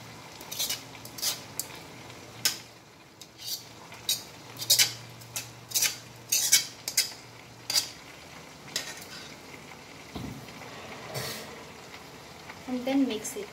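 Utensil scraping and clinking as white sauce pasta with basil is stirred in a pan, a series of short metallic strokes at a steady pace over a low background hum, close by.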